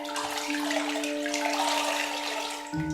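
Bath water running in a marble bathroom with soft cushions: a steady, fairly quiet splashing flow with a sustained humming tone beneath it, ending in a brief shift.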